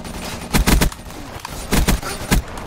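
Bursts of gunfire from Black Ops 3 search and destroy, played with the R70 Ajax: two clusters of loud, close shots with a final single shot, ending a double kill, with no talk.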